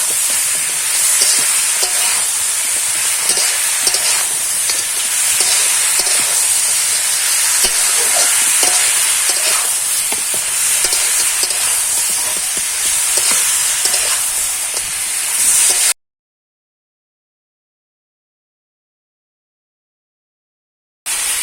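Tomatoes hit hot oil in a pan for a village-style desi chicken curry, giving a loud, steady, close sizzle with stirring scrapes that runs unbroken, then stops abruptly into silence before briefly resuming.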